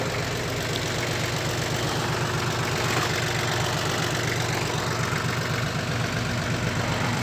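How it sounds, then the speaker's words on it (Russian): A 15-horsepower two-cylinder Kubota B6000 Japanese mini tractor idles steadily up close, a continuous low rhythmic chug with no one speaking. "Сегодня у нас на обзоре японский мини-трактор Kubota B6000."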